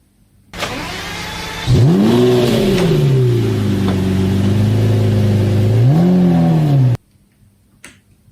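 Toy BMW car with metallic blue and black paint plays a recorded engine sound: a start-up click, then a loud, steady revving drone that rises and falls for about five seconds before cutting off abruptly.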